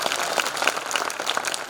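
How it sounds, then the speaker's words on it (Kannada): Villagers at a spiritual discourse gathering clapping together: a short burst of dense, steady applause from a crowd, with no voices over it. "ಚಪ್ಪಾಳೆ ತಟ್ರಿ"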